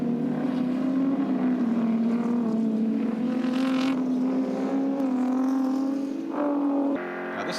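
Group A touring cars racing at Calder Park in 1985, a loud, steady engine drone holding pitch as a car passes close through a corner, then cutting off abruptly near the end.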